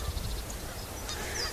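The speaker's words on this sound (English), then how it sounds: "Me and the Canada geese, which you can probably hear quacking in the background." Canada geese honk faintly in the distance outdoors, a few scattered calls under a steady background hiss, with no voices.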